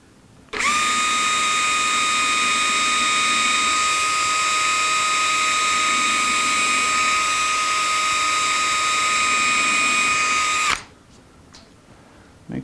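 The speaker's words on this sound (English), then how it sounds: "We're gonna drill straight down into the body here." Power drill boring straight down into the body of a 1964 ES 335 guitar for a strap button, a loud sustained high whine lasting about ten seconds before cutting off abruptly, alone without talk.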